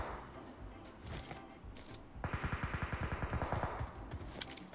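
Gunfire in the battle royale game PUBG: quiet background shots, then a long rapid burst of automatic fire with evenly spaced cracks, loud and close.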